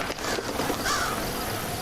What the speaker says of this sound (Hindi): इतने सारे कौवे वगैरह कहाँ से आ गए?